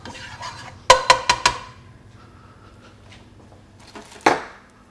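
A coconut and garlic mixture is stirred in a pan, with four sharp metallic scrapes and clanks in quick succession, then a quieter stretch and one more clatter, all close by.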